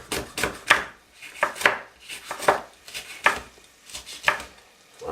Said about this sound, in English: Chop it straight inside of it.